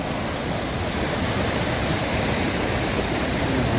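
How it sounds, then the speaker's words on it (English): Return Creek in the High Sierra, overflowing with snowmelt, roars as a loud, continuous broadband rush of whitewater with no breaks. "This is Return Creek. It's like overflowing with snow melt."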